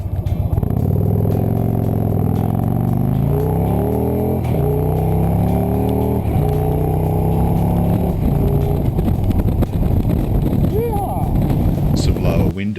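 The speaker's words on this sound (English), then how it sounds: "To the standard test bike was fitted Victory's Stage 1 oval exhausts that sounded great" A Victory Cross Country V-twin motorcycle fitted with Stage 1 oval exhausts rumbles loudly and continuously, its pitch rising through gears in steady sweeps, with a voice talking over the engine.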